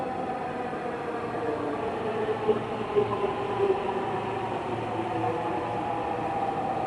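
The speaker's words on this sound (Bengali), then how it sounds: "গাইস হচ্ছে চলে আসছে মেট্রো রেল আমাদের। এই যে দেখেন গাড়িটা চলে আসছে" Dhaka metro rail train arriving at a station, a steady broadband rumble and rail hum throughout with a few brief louder clanks midway, fairly close and continuous without speech.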